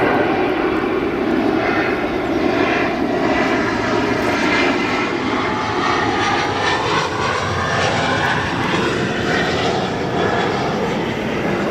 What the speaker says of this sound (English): Next arrival, Delta Connection, Embraer E175 long range from JFK